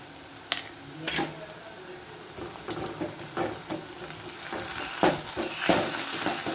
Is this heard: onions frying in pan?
yes